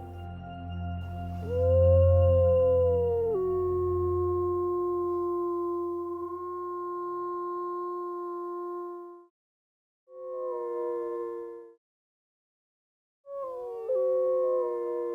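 Wild wolves howl in a Yellowstone valley, a long, clear, sustained howl holding a steady pitch after an initial rise, followed after pauses by shorter overlapping howls from more voices, alone without talk.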